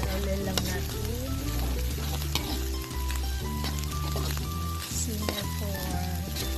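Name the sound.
stirring sizzling bopis (pork lung) with chili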